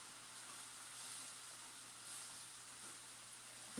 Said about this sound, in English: And just sauteing them, boy, just like that.